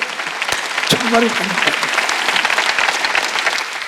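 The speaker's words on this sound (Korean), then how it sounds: "박수 치라고" Applause from a church congregation during a Sunday worship service, a steady wash of clapping that runs through the whole moment while a voice speaks over it.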